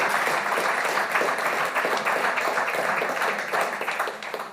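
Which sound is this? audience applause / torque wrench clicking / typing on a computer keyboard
audience applause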